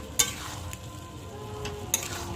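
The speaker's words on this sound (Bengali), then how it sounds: "দইয়ের সঙ্গে আমি ভালো করে কিন্তু পটলটা এবং বাকি মশলাগুলোকে মিক্স করে নিচ্ছি।" Pointed gourd being stirred together with yogurt and spices in a pan, a soft steady sizzle underneath with two sharp scrape-clicks of the spoon against the pan, no talking.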